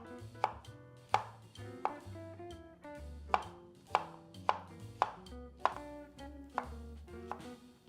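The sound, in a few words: coarsely chopping peeled peaches with a knife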